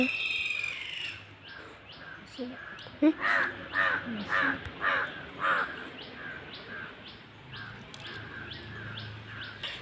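Several crows caw in a rural village setting, a run of loud, evenly spaced calls close by in the middle of the stretch, with softer calls before and after and other birds chirping faintly around them.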